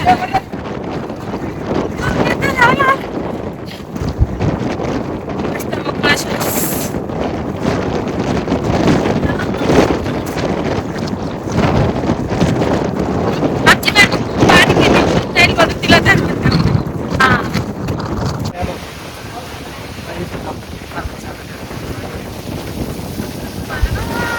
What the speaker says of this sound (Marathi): खूप वारा आहे